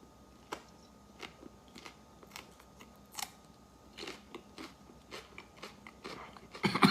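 Someone chews a raw habanero pepper in a hot pepper challenge, giving scattered close crunches and bites that grow louder and denser toward the end, with no talking.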